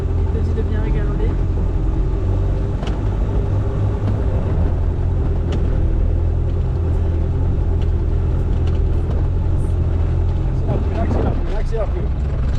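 A 4x4 off-road vehicle crawling across a side slope during a driving course gives a constant low engine rumble, with people talking in French over it from inside the cabin.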